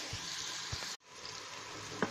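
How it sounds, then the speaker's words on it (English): Onions sizzle quietly in a pan, a soft steady hiss with a couple of light knocks and a brief cut partway through. "now in go the onions"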